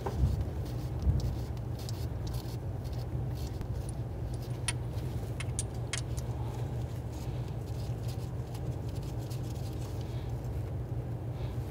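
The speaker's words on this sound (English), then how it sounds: "Go ahead and remove that plug." Metallic tool clicks and faint clinks from removing a spark plug on a 6.2L V8 Cadillac Escalade, a few sharp ticks in the middle over a steady low garage hum, no talking.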